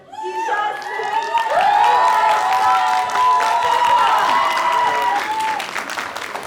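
An audience at a promotional event for the show Jab Mila Tu bursts into sustained applause, with loud cheering, whoops and whistle-like shouts riding over the steady clapping throughout.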